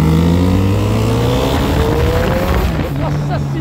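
A 2013 Kawasaki Z1000 motorcycle ridden through tight curves, its engine droning loudly up close and shifting pitch as it slows and accelerates, with wind rush and a rider talking over it.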